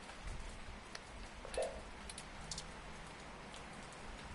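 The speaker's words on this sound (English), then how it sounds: "Luckily, Turing isn't affected by rain." Steady, faint rain from 2064: Read Only Memories, a soft continuous patter with a few brief louder ticks, no voices over it.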